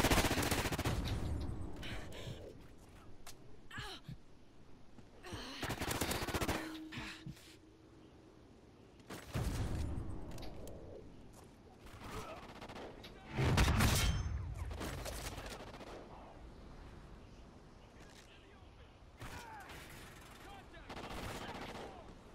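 Bursts of automatic gunfire from the shooter Call of Duty Ghosts, repeated loud volleys with short pauses between them, mixed with distant booms and game sounds.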